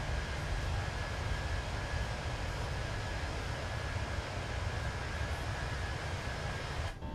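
An aircraft in Microsoft Flight Simulator 2024 accelerates down a snowy winter runway for takeoff, giving a steady, fairly quiet engine roar with a faint whine that carries on evenly until a brief dip at the end.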